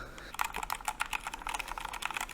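Quick, light typing on an Ajazz AK820 MAX keyboard, a rapid patter of soft clicky keystrokes at moderate volume with no talking.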